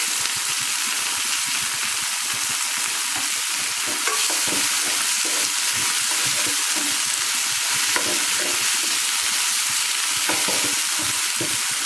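Curry leaves dropped into hot oil for bread upma, giving a loud, steady, close sizzle with light stirring scrapes that runs unbroken throughout.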